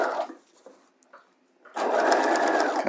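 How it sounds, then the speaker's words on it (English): Sewing machine stitching along a boned bodice hem with lining, starting after a quiet pause and then running steadily and loudly for about a second, close up with no talk. "You have to really shove it under the machine."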